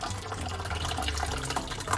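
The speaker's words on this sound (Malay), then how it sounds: "Kita tapis. Kita buang air-air yang pekat." Brewed bubble tea is strained and its concentrated liquid poured off, giving a continuous close splashing and trickling of liquid with no talk.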